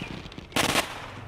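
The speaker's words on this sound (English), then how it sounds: "I did not just fire a shotgun directly into the air." In the Walking Dead Saints & Sinners video game, a shotgun is fired into the air, one loud sharp blast with a short ringing tail over quiet background noise.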